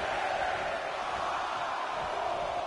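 A wrestling arena crowd in the WWE 2K24 video game roars as a steady, dense wash of cheering, loud and unbroken throughout with no distinct voices standing out.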